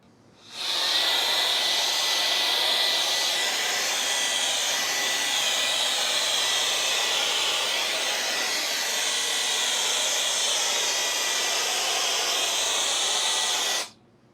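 A Wolfbox MF100 electric air duster with its nozzle attached blows a loud, steady high-pitched whooshing hiss for about thirteen seconds. It starts and stops abruptly, heard up close and alone.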